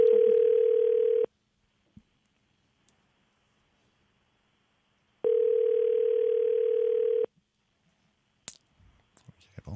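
A telephone ringback tone sounds twice while a call is placed, each long steady burst followed by silence, then a few faint clicks at the end.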